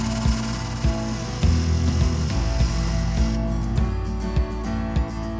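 A tool works over the rim of a cast resin jug holding embedded flowers, giving a steady close abrasive grind broken by regular knocks and thumps.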